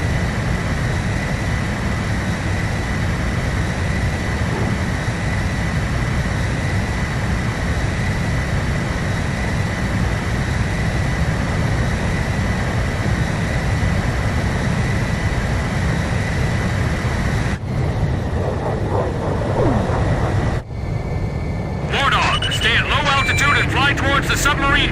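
Steady jet engine roar from aircraft during aerial refueling in the combat flight game Ace Combat 5, a loud continuous rumble and hiss held for most of the stretch before breaking into shifting tones near the end.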